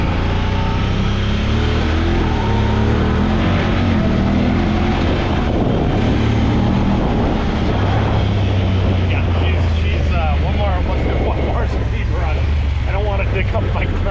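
Honda Talon X side-by-side on Tusk Megabite 30-inch tires, its engine droning steadily loud throughout with throttle rising and falling, someone talking over it.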